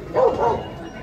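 A single short dog bark or yip, fairly close, followed by quiet background hum.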